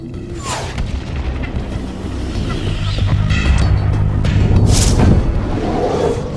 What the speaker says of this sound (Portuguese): A explosão do impacto foi equivalente à força de 1000 bombas de Hiroshima.